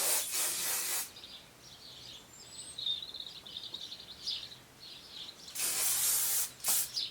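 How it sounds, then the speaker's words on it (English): A large can of hairspray hisses onto hair in two long, close bursts at the start and end, with a short extra spurt after the second and a quiet stretch between. "go in with your huge can of hairspray and secure"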